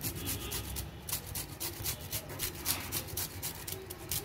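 Gondhoraj lemon is grated over katla fish curry in a home kitchen, a soft, quiet rasping scrape repeating in quick irregular strokes throughout.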